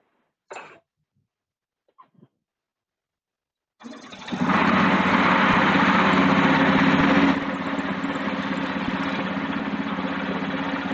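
A motor starts after a few faint knocks and settles into a steady, loud idle with a constant buzzing hum that eases slightly partway through, heard alone.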